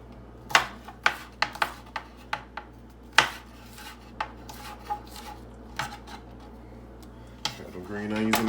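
A spoon stirs green onions into a buffalo chicken dip in a dish, making a near series of sharp clinks and scrapes, quick at first then spacing out, with a brief rustle at the end.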